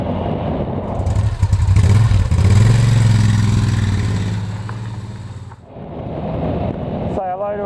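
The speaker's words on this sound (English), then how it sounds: "we're having one last ride on the BMW before it goes up for sale" A BMW motorcycle rides along on the road, its engine droning and rising in pitch under wind noise, close and loud, fading and shifting near the end, with people talking over the intercom.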